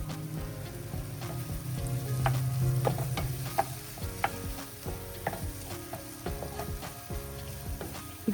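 Ginger garlic paste sizzles and fries in a pan for kadai paneer, with steady crackling and scattered stirring clicks as it is moved around, close and moderately loud with no talking.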